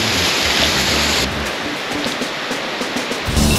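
Waterfall at Taytay Falls in Laguna, a steady broadband roar of falling water close by, continuous throughout with a slight swell near the end and no speech.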